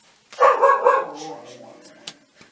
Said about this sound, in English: I'm not sure he was barking last time.